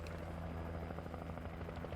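Helicopter in the video game Alan Wake Remastered, a steady droning rotor and engine roar with a low rhythmic thump, loud and continuous throughout.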